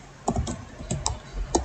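Keys clack on a computer keyboard while a database table is created, a handful of separate, crisp strokes in an irregular rhythm, close and fairly quiet, with no one talking.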